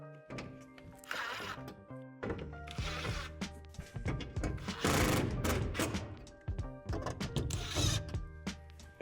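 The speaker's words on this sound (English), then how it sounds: "Then secure the support to the wall with the 4 screws." A power drill drives screws into a plastic Lifetime utility shed wall support in several whirring bursts, with clattering and ratcheting knocks in between, close and fairly loud.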